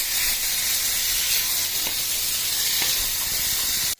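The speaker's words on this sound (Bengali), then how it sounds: "এইভাবে আমি ভালো করে কষে নিয়েছি" Spices for a mackerel curry sautéing in a pan make a loud, steady steamy hiss with a few soft stirring taps, ending abruptly.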